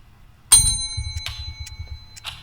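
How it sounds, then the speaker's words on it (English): A counter bell in a video game is struck once with a sharp, bright ding that rings on, followed by soft ticking and a few lighter metallic chimes, close and clear. "All right, you hit the bell."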